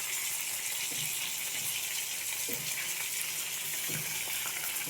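Grated onion, garlic and ginger frying in hot oil for an egg curry, a steady, loud hiss and sizzle running unbroken throughout with faint crackles underneath.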